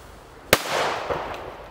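A Funke A Böller firecracker goes off with a single sharp, loud bang, followed by a short rumbling echo and a fainter secondary crack as it fades.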